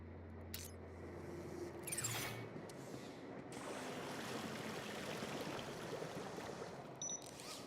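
In the video game Beyond a Steel Sky, a robot sprays water. After a few mechanical clicks and whirs comes a faint, steady hissing jet, with another click near the end.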